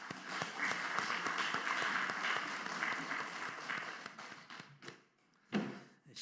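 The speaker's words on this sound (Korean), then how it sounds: "우리 할렐루야 찬양대 또 주일 경배 찬양팀 축복하고 격려하는 박수 하도록 합니다." A church congregation claps in applause for the choir and worship team during a Sunday service, a dense burst of clapping that fades out after about four seconds, followed by a few scattered thumps.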